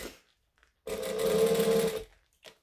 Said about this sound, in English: So we're going to stitch, we're going to back stitch.